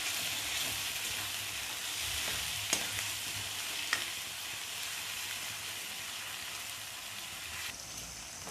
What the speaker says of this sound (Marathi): हे सगळं मी गॅस स्लो करायचा आणि व्यवस्थित दोन मिनटं छान असं परतून घ्यायचं आहे